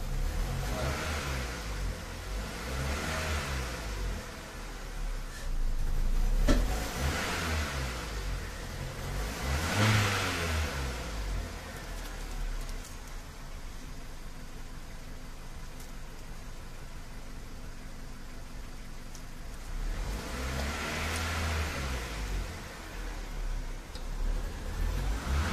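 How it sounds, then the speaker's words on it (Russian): A Kia Cerato car engine runs with repeated surging revs rising and fading, rough and uneven as it runs out of fuel before stalling, with steady background noise between the bursts. "ждем, пока машина сама по себе заглохнет от недостатки жидкости"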